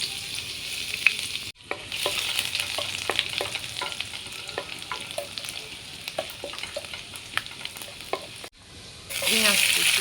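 Chopped ginger and garlic sizzle in oil in a wok while cooking a momo filling, a dense crackling fry with scattered pops and stirring clicks, briefly cut off twice and surging louder at the end.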